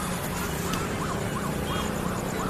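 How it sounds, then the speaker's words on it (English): An ambulance siren wails in repeated rising-and-falling sweeps, fairly loud over steady traffic noise, cycling several times without a break. "There's an ambulance."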